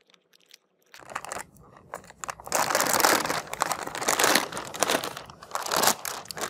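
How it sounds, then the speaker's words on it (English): A plastic Ziploc bag holding a reel of cable ties is pulled open by hand, giving a loud run of crinkling and crackling plastic with sharp crunchy bursts after a brief quiet start. "Now, I'm going to open the Ziploc here."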